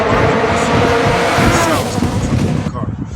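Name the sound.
Subaru WRX 2-liter 4-cylinder engine rumble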